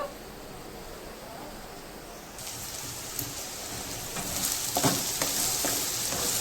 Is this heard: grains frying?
yes